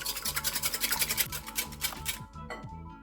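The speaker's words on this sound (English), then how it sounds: "Give it a good whisk." Three eggs being beaten with a whisk for a pandan custard, a fast rhythmic clicking and scraping against the bowl, quiet and close, stopping briefly near the end.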